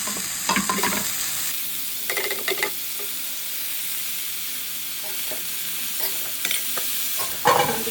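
Chopped chickpea greens fry in a pan while a spoon stirs them, giving repeated close scraping strokes over a soft, steady sizzle.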